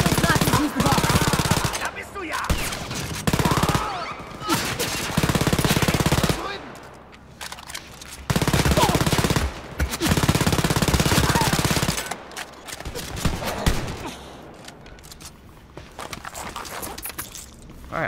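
Loud bursts of machine gun fire in the video game Wolfenstein Youngblood, several long sustained volleys broken by brief pauses, with game sounds between them.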